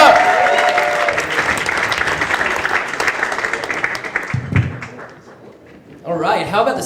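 An audience at a Gotham comedy club stand-up show breaks into loud, dense applause and clapping that fades out over several seconds, followed by a brief quiet and then a voice starting to speak.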